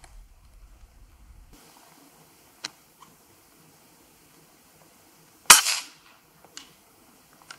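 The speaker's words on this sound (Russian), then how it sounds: "Давайте еще пробовать стрелять." A PCP air rifle, shown as a powerful model firing at long range, gives one sharp, loud crack that stands alone in a quiet outdoor scene, followed by a short fading tail and a few faint clicks.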